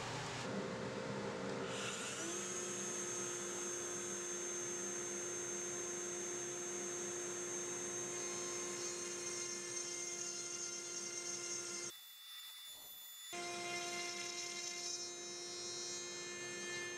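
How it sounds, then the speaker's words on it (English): A router cuts a stopped groove into the ends of a wooden wall-hanging cabinet. A steady, high-pitched motor whine runs continuously at moderate level, with a brief dip near the end. "I can route a stopped groove in the ends to accept the splines"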